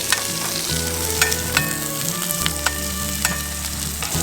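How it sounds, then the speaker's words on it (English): Coarse-cut onions searing in a hot pan for soup give a steady, close, dense sizzle and crackle with a few stirring clicks, and no talking. "get a good brown to the onions."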